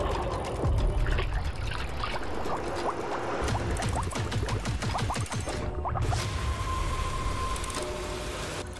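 Noisy ocean waves near the shore at Bali, a steady wash of splashing and trickling water with sharp crackling surges, moderately loud and continuous, no voices.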